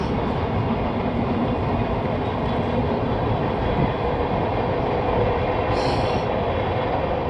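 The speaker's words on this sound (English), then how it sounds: "even though I know the train will go by" A train rumbles past nearby with a steady, dense roar and faint rail clatter throughout, joined briefly by a high metallic squeal near the end.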